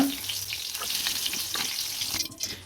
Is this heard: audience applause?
no